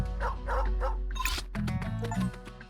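A dog in a murder-mystery detective game barks and yips several times, nearby and fairly loud, with short whimpering cries over a low steady background tone and no talk.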